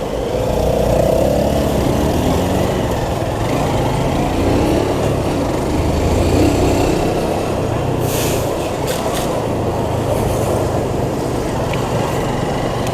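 A 2011 Honda Fan 150 motorcycle rides along a road under a partly cloudy sky, its small single-cylinder engine buzzing steadily with continuous wind and road rumble, no one speaking.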